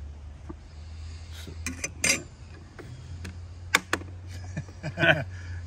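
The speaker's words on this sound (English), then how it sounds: "So I'm going to take the red onion first. Make sure you peel your onion." Red onion being peeled and cut with a knife on a board, giving scattered crisp taps and papery crackles over a steady low hum, with a few louder chops near the middle and end.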